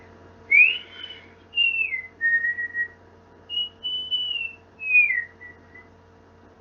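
A man whistles a wandering, sliding melody straight into a poor-quality microphone, loud and close, in several phrases with short breaths between them and a low hum underneath.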